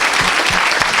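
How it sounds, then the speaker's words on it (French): Church congregation applauding, a brief burst of loud, dense clapping from a crowd lasting about a second. "Est-ce que tu peux acclamer Jésus?"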